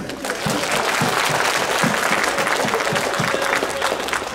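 Steady applause from a cosplay roleplay audience at a convention, a dense wash of clapping hands lasting throughout at an even, close loudness, with no talk.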